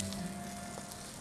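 Mustard seeds and chillies sizzling in hot oil for a sambar tempering, a soft steady crackle and hiss heard alone for a brief moment.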